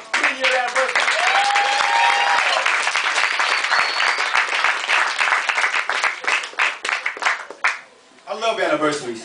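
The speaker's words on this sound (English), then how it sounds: "One more round of applause for 3-year anniversary." A crowd at a spoken-word poetry show claps and cheers loudly for a three-year anniversary, the applause steady and dense before thinning into scattered claps, with voices calling out over it.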